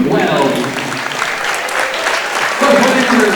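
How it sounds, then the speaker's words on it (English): Basketball crowd in a gym applauding a player fouling out with five personal fouls late in the fourth quarter, a steady dense wash of clapping and cheering, swelling near the end, with voices mixed in. "Round of applause, ladies and gentlemen, for Luke Wells."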